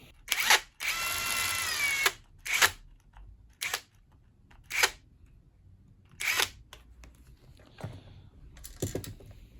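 Screws going back into a Clarke CBG8W bench grinder with a powered driver, several short whirring bursts separated by pauses, close and fairly quiet, with small clicks and handling noises between.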